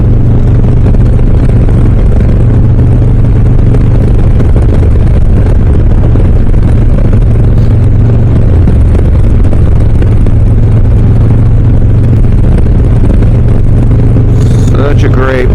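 A Harley-Davidson Low Rider S motorcycle rumbles steadily at cruising speed, its low engine drone loud and close throughout with wind noise and a faint voice near the end.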